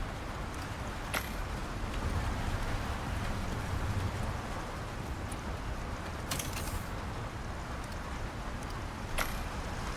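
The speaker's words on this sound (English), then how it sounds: "Wow, that rain sounds..." Stormy rain in the survival game Icarus pours as a steady, dense hiss, with a few sharp clicks and creaks popping out over it; no one speaks.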